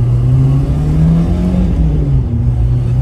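A 1979 Mercury Capri RS Turbo, a low-mileage Fox body survivor, has its engine revving steadily and loudly from the cabin, a continuous low drone with shifting pitch that holds for three seconds with no talk over it.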